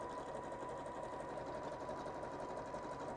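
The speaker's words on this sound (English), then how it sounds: "Again, just it's a zigzag stitch" Close and steady, a sewing machine runs a zigzag stitch on a quilt and bag project, its motor humming evenly without a break.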